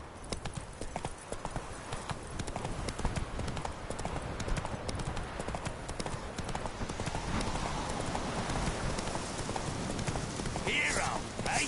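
Horse hooves clip-clopping at a steady gallop in The Witcher 3, a continuous rapid drumming of hoofbeats over ambient game sound, with a brief spoken voice.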